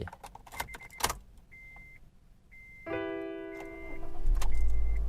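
A 2015 Honda Jazz 1.5S starts up: keys jangle and a chime beeps, then a steady electronic tone, and near the end the engine catches with a low rumble that swells and holds.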